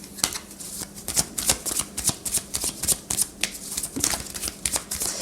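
Tarot cards being shuffled by hand, a steady run of crisp, close riffling bursts repeating every half second or so for several seconds with no talking.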